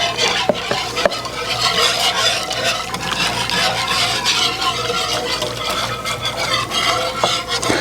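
A spoon stirs clam chowder in a pot just before half and half goes in. The rough scraping and swishing is continuous and close, with occasional clinks against the pot and no talking.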